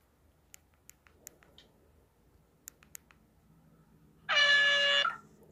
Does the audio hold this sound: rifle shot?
no